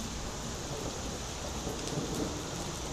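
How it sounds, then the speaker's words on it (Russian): Steady rain pours during a powerful supercell thunderstorm in a Moscow park, with a low, continuous thunder rumble underneath the wash of falling water, no speech. "И гром становится все ближе."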